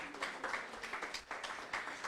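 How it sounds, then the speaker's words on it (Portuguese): Audience applause at a literature conference event, a faint, steady patter of many hands clapping with slight rhythmic swells, heard from a distance. "Eu peço uma salva de palmas"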